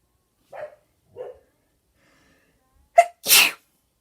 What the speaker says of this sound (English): hold on, I'm about to sneeze